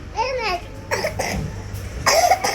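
A child gives several short, nearby coughs in separate bursts, mixed with brief vocal sounds and light background noise.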